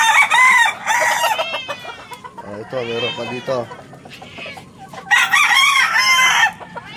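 Chickens cluck and a rooster crows loudly up close, bursts of calls alternating with someone speaking briefly in between.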